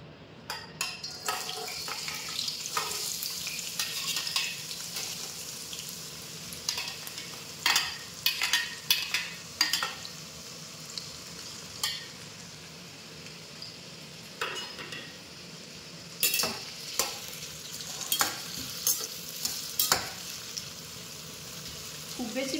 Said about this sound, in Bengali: খুব অল্প হিটে আমি মশলা এই সবজিগুলোকে এক এক করে ভেজে নেব